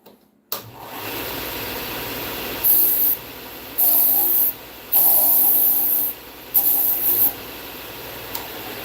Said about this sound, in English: you put it right up to the sander